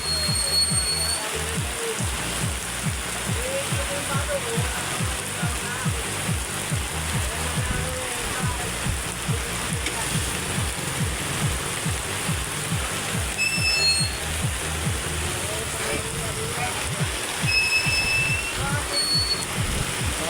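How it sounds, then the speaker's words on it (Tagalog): Heavy rain pours steadily and loudly throughout, a dense wash of drumming drops with occasional faint birdlike chirps high above. "Malakas ang ulan."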